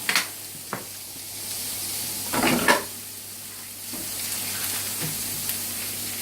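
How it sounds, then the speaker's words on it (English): A chilli mix frying in oil in a pan gives a steady soft sizzle, with a couple of sharper bursts of spitting and stirring noise near the start and middle. "So that's frying away quite nicely"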